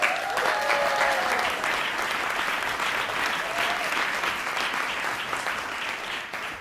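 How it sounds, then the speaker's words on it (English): A large audience applauds at the Hult Prize global finals in the UK, with sustained, dense clapping from start to end that fades slightly at the close. A few voices and a tonal sound briefly rise over the crowd. "give him a huge round of applause,"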